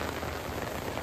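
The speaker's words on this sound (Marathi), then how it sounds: "एवढा जोरात पाऊस आला." Heavy rain pours steadily over hillside rice fields during paddy transplanting, a dense continuous hiss with no gaps.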